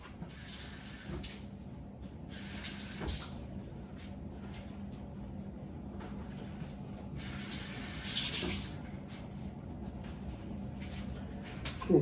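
Kitchen tap water running onto a towel to dampen it during sourdough bread making, a steady close splashing stream with brighter bursts as the cloth is moved under the flow.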